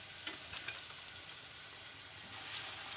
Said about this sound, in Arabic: وكنخليو البصل مع الثوم يتشحر مزيان في هاد الزويته